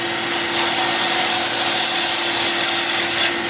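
Bowl gouge raking across a pen blank spinning on a wood lathe, a loud steady rasping scrape with a hum underneath, building quickly and holding for about three seconds before easing off.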